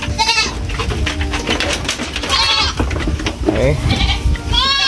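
Goats bleat repeatedly in a pen on a small goat farm in Quezon Province, their wavering calls overlapping and close, with someone talking between them.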